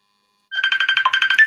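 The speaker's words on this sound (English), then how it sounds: "Quick, answer the phone." A telephone ringtone trills in a rapid, evenly pulsed electronic pattern, close and fairly loud, starting after a brief silence and sounding alone with no talk.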